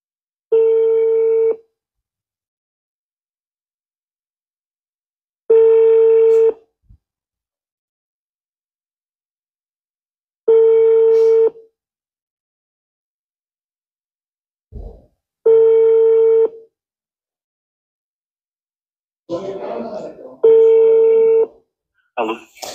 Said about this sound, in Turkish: Telefon ketdi mana.